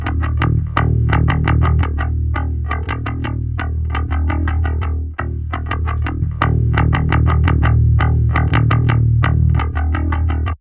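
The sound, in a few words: bass with stereo widening effect bypassed and re-enabled in a mix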